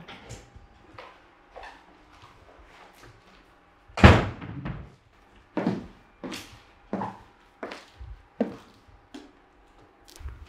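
A door opens and closes as someone enters a house in a Nigerian drama. One loud bang of the door is heard, with a scatter of softer knocks and thuds before and after in a quiet room.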